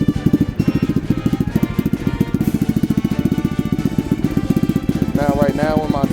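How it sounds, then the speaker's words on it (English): A Lifan KP Mini 300 motorcycle with a 4-valve ZS175FMN engine idles after a cold start with the idle turned up, giving a loud, close, steady stream of rapid firing pulses throughout. "Figured I'd start off today's episode with a cold start, so turn the idle up a little bit, turn that on"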